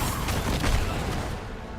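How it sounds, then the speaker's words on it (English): Rumbling, crashing explosions in the Diablo video game, a dense low roar with a stronger burst near the middle that gradually fades, loud and without talk. "More explosions. More explosions."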